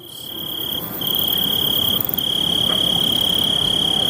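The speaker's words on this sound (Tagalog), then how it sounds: "ang tunog ng kuliglig ang tanging naririnig" Loud, constant cricket chirping at night, a shrill continuous trill with a faint background insect chorus.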